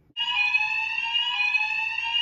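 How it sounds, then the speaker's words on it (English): A building fire alarm sounds at night, a loud, steady, piercing electronic tone that starts abruptly and holds without break, close by and alone. "Last clip you will have seen was the sound of fire alarms."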